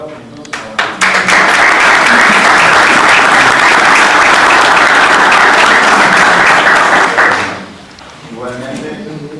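An audience at a security forces training session in Concordia breaks into loud, dense applause that builds quickly after a few scattered claps, holds strongly for several seconds, then tapers off before a voice resumes.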